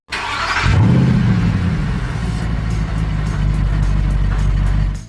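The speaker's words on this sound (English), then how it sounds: "Isaac turns on the ignition." A blue 2015 Toyota Corolla cranking briefly, catching and settling into a steady idle, close and loud, with no talking.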